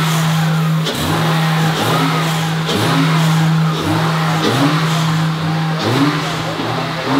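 Acura NSX engine fitted with upgraded Pure 900 turbos, revving in repeated bursts about every second and a half over a steady droning idle, loud and close throughout.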